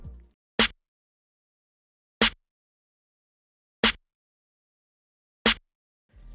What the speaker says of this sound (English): It's called Flawless Snare. It sounds like this.